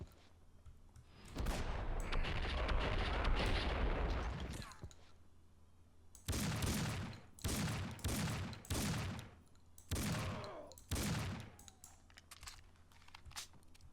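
Gunfire in Max Payne 2 (2003): a long sustained burst, then several separate heavy shots in an uneven sequence, loud and close.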